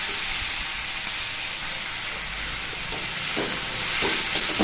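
Winter vegetables and scooty fish fry in oil with no water in the pan, giving a continuous hissing sizzle that swells slightly toward the end, with no voices over it.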